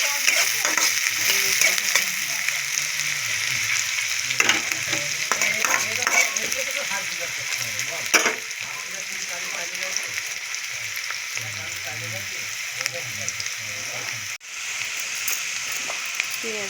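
Chicken bones and large onion pieces fry in oil, giving a steady crackling sizzle with occasional stirring clatter, close up and continuous.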